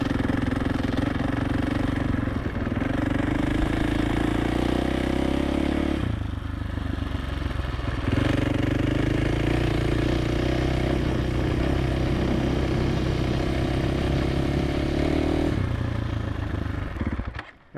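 A motorcycle ridden nearby through repeated drills, its engine droning steadily with rises and falls in pitch and a few brief dips where the throttle eases off. No one speaks.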